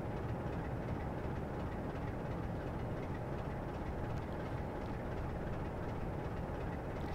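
A train runs along the China Clay Line in Train Simulator 2017, giving a steady, fairly quiet rumble of rolling wheels and engine with faint rhythmic rail clatter and no voices.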